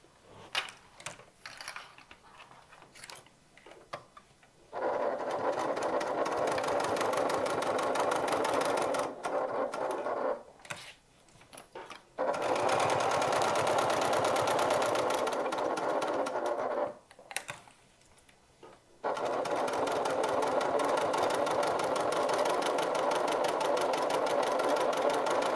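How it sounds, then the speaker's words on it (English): A sewing machine stitches around a top handle bag at an eighth-inch seam, running in three long steady whirring bursts separated by brief pauses and quieter handling, close and loud with no talk. "I'm going to stitch around using an 1/8 of an inch seam allowance."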